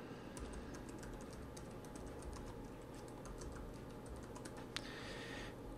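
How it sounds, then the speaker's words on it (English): Quiet, steady keystrokes tap on a computer keyboard as an email address is typed into a sharing field, a soft run of clicks over low room hum, ending with one sharper key press. "So you're going to type in my email address."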